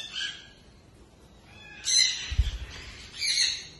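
Green parrot and Hans macaw calls from a neighbouring flight cage: a few harsh, screechy squawks in separate bursts, moderately loud, with a low thump in between.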